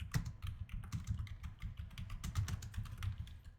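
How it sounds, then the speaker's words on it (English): A computer keyboard clicks under quick, close typing as a chat message is entered in the online game Swamp, a steady run of light keystrokes with no voices. "Type your message. Like this."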